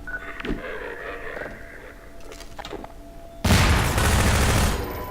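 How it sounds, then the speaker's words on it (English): A grenade thrown in the video game Half-Life 2 bursts into a loud, sustained explosion after a stretch of quieter game ambience and faint clanks. "Let's spam some grenades."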